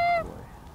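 A single short, near honk from a goose flying past on the Hudson Bay coast, heard alone and fading quickly.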